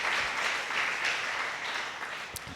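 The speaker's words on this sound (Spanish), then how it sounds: "denle ese aplauso al Señor" Steady applause from a church congregation, a continuous patter of many hands clapping at moderate volume without pause.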